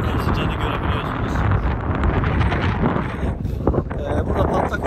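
Wind gusts roar across the microphone at a paragliding site in Erzincan, Turkey, in uneven bursts, loud and close, while speech seems faintly mixed in underneath.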